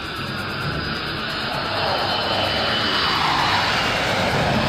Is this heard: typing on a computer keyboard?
no